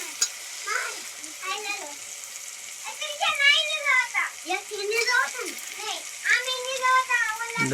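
Fodva dropped into a pan of thick cooked gravy, sizzling steadily while being stirred, with voices talking over the frying throughout.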